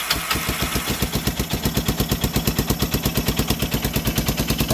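A four-wheeler ATV engine runs off choke with a fast, even, popping idle, loud and close, with no voices.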